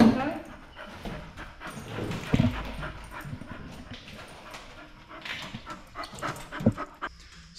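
A puppy panting close by in a vehicle being converted into a skoolie, quick breathy huffs with small whimpers and scuffling mixed in, while a person talks over it.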